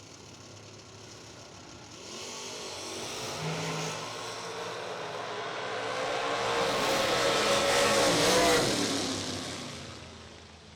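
A clean Camaro drag race car launches at a bracket racing event in Brunswick, Georgia. A distant engine builds from a low rumble into a swelling, revving roar that peaks near the end, then fades slightly.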